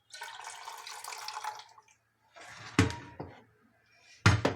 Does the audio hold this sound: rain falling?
no